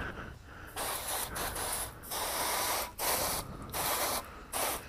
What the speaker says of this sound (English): Oh, I didn't even spray the front.